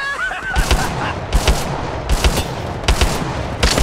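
Repeated bursts of gunfire from the Apex Legends battle royale video game, several short rapid volleys spaced about a second apart, loud and close, with some faint game audio between them.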